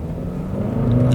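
A 2021 Chevrolet Cruze Sport6 with turbo engine held stalled at the line, its engine droning low and steady before the revs build louder toward launch.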